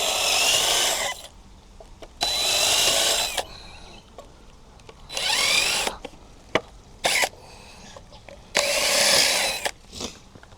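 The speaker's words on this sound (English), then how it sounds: "Now I gotta put a pre-drill the hole. Get my drill bit out." A power drill whirs in several loud bursts of a second or two each, pre-drilling wood, separated by quieter pauses with small knocks and handling noises.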